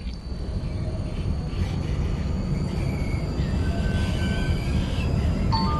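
A tram running in a tram driving video game, cruising at moderate speed with a steady low rolling rumble and faint high whines, continuous and fairly loud.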